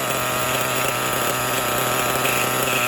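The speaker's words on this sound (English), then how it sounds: "So the motor is idling fairly consistently." A Kyosho Foxx 2.0 RC car's small engine idles steadily up close, a constant buzzing drone with a fast, even mechanical rattle and no change in pitch.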